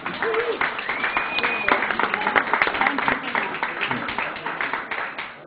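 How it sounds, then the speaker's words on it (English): Dense applause fills a room at an event honouring a kosher wine expert, a sustained rapid patter of many hands clapping with voices mixed underneath. "Let's give a round of applause."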